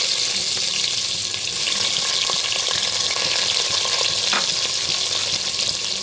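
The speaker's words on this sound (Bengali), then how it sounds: "বসিয়ে দিয়েছি গ্যাসে একটা প্রেসার কুকার। আর এর মধ্যে দিয়ে দেবো দুটো তেজপাতা আর কিছু পেঁয়াজ কুচি" Two bay leaves and chopped onion fry in hot oil in a pressure cooker on a gas stove, a dense, even sizzle heard close up and unbroken throughout, with faint clicks of stirring.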